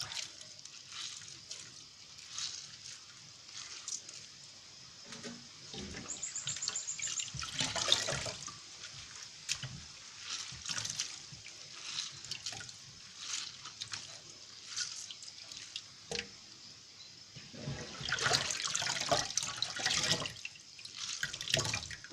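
Vegetables being rinsed under running water and then squeezed out by hand in a kitchen sink, with a steady trickle and splashing, broken by louder swishes and bursts of water near and alone.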